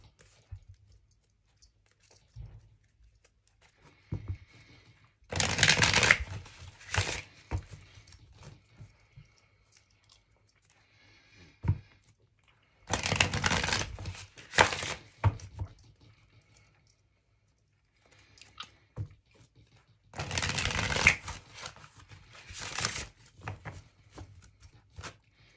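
Tarot cards are shuffled in three separate bursts of quick, crisp riffling and pattering, close and fairly loud, separated by near-silent pauses.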